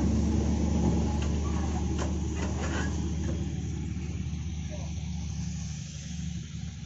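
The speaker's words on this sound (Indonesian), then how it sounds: "Di sini lalu lalang mobil hauling, guys." Mining hauling trucks roll past on a haul road, making a loud, steady low engine rumble with road noise that fills the whole stretch and eases slightly toward the end.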